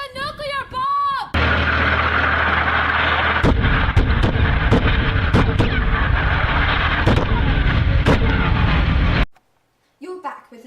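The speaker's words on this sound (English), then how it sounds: "There's a nuclear bomb!" A simulated nuclear bomb explosion makes a loud, sustained roaring blast with scattered sharp cracks. It begins abruptly after a shouted voice, then cuts to silence before brief talk.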